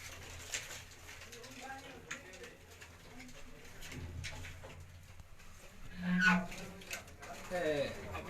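Champion racing pigeons on a rooftop loft in Gujranwala give soft, low cooing phrases that swell louder toward the end, with quiet voices and faint background noise around them.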